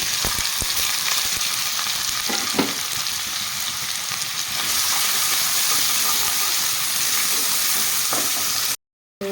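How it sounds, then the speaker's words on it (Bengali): Onion and whole cumin frying in mustard oil, a loud, steady hissing sizzle close up with occasional stirring scrapes, cutting off abruptly near the end. "পেঁয়াজটাকে আমি হালকা ব্রাউন করে ভেজে নিয়েছি"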